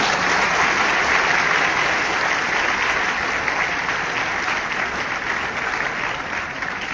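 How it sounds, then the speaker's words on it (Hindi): A large audience at a university convocation breaks into dense, sustained applause that holds at a loud, even level throughout. "तालियां तो बजाओ"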